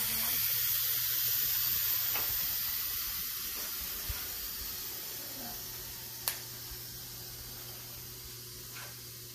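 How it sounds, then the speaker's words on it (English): An Instant Pot vents steam in a loud, continuous hiss that slowly fades, with a low hum and a couple of sharp clicks along the way. "So all that steam is gonna release"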